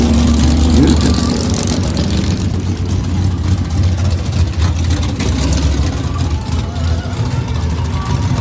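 Gasser-style muscle cars at a 2024 drag racing event, deep rumbling engines idling and revving at close range in a continuous low growl, with crowd noise and voices around.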